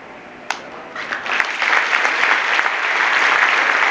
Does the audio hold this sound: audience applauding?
yes